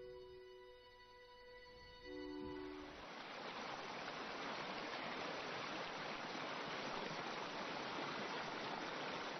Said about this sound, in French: Cette pluie permet la formation d'un ruisseau clair.